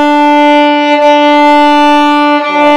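Violin playing long sustained bowed notes at a steady pitch with a slight change of bow around one second, close and loud, ending with a brief shift at the end.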